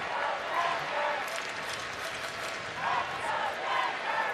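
UMD hockey fans clapping inside a Chicago arena during the Frozen Four final, a steady wash of crowd applause and murmur filling the space throughout, with a commentator's voice running over it.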